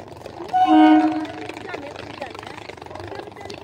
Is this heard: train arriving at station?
yes